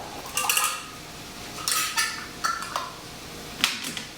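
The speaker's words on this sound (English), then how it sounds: "Place your caps on top of the jars." Metal caps go onto hot glass canning jars of Thai chilli sauce in a few sharp, light clinks and taps. They come in small clusters with short pauses, close and fairly soft.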